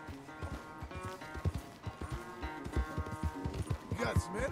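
Horse hooves clip-clop in a quick, uneven rhythm as a horse is ridden in the Red Dead Redemption 2 video game, close and clear under a low background.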